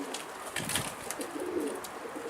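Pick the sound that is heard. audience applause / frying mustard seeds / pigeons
pigeons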